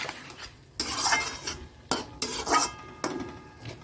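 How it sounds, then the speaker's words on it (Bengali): Potatoes fried with bhujia in a pan are stirred in repeated strokes, about every second, each a loud scraping pass of a spatula over metal over a steady close sizzle, with no voices. "ভুজিয়া দিয়ে আলু কষা করেছি দেখো আস্তে আস্তে হয়ে যাক"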